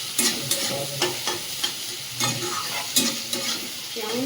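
Mutton curry with onions being stirred as it fries in a pan: repeated scraping strokes in a loose rhythm over a continuous sizzle, close and fairly loud, with no voices.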